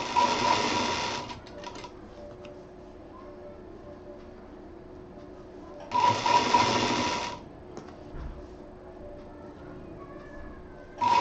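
A sewing machine stitches fabric for a homemade hair safety cap in two loud, close bursts of fast whirring, separated by quiet stretches with faint handling sounds and a third burst starting at the end.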